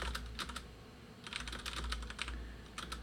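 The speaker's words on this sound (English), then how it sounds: "I can't type." Fast typing on a computer keyboard in bursts of clicky keystrokes, close and fairly quiet, separated by short pauses over a low steady hum.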